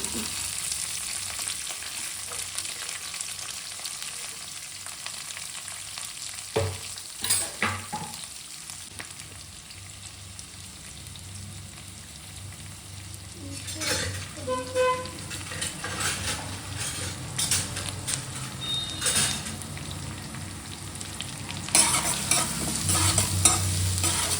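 Curry leaves and onion frying for carrot palya, with constant close sizzling broken by repeated stirring scrapes and utensil knocks that grow busier toward the end.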